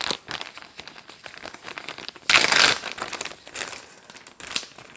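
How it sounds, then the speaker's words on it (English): Ziploc bag crinkling as chicken strips are shaken in a peanut coating, close crisp rustling in quick bursts with one loud vigorous shake midway. "I'm going to use a Ziploc bag to make it's like shake and bake."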